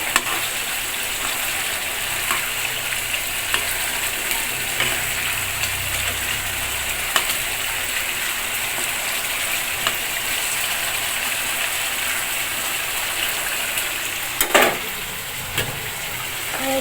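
Chicken roast frying in oil in a covered pan, a steady close sizzle with a low background hum, occasional clinks and a brief stirring scrape near the end.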